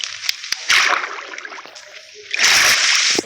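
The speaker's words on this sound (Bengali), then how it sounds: "এখানে আমি একটা সুন্দর ঝর্ণা বানাইছি।" Water splashes and sloshes in a small homemade fountain at night, with two louder bursts of pouring spray separated by a quieter stretch of trickling, plus a few sharp drips.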